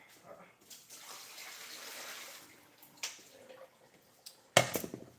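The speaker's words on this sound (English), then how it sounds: "let me dump this water." Water pours from a container into a kitchen sink, a soft steady splash building and fading, then ending with a sharper gush and clatter near the end.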